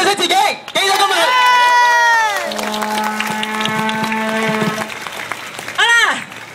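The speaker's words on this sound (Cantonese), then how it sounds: "俾掌聲自己，記得今日。" Steady crowd applause at a street march calling for a ban on bear bile imports and freedom for black bears, with a long droning horn-like tone and voices carrying over the clapping.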